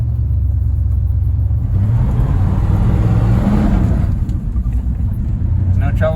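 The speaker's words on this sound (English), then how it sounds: "There's no trouble spinning the tires." An old truck belonging to someone's dad revs hard with tires spinning, a loud steady low rumble that swells then eases, with a person speaking over it.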